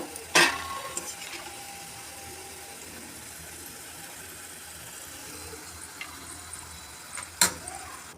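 Pieces of okra fry in oil in a pan, giving a low, steady sizzle, with a sharp utensil clink near the start and another near the end.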